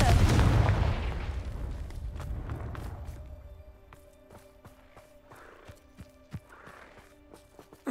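A Confringo blasting spell in Hogwarts Legacy erupts in a loud, booming explosion at the start, its rumble slowly decaying over several seconds, followed by scattered lighter impacts and clatter.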